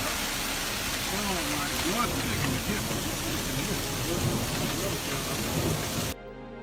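Heavy rushing and pattering of hail and floodwater pouring through city streets, dense and continuous with indistinct voices mixed in, cutting off abruptly near the end.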